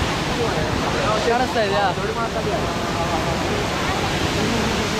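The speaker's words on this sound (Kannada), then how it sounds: "ತುಂಬ ಹಾರ್ಷಾಗಿ ಹರಿತಾ ಇದೆ ನೀರು ನೋಡಿ." The Harvelleum waterfall in South Goa roars without a break as water rushes down forcefully, a dense and close wash of noise that fills the whole clip while people talk over it.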